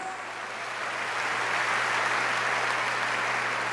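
A church congregation applauds steadily, a dense wash of many hands clapping that swells slightly and holds at full strength throughout.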